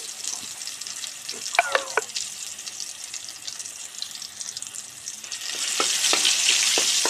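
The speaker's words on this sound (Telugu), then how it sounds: "కొంచెం అల్లం అల్లాన్ని ఎర్రగా వేయించుకోవాలి" Ginger fries in hot oil over low heat with a soft, close sizzle. A few clinks of a utensil come early, and the crackle grows louder toward the end. No one speaks.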